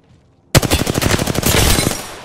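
A loud burst of rapid automatic gunfire in a video game breaks out after a short silence and keeps going in an even, quick rhythm.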